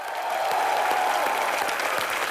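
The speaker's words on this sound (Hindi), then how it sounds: "एक बार जोरदार तालियां।" A television comedy-show studio audience applauds loudly, a dense, even wash of clapping that holds steady throughout without any speech over it.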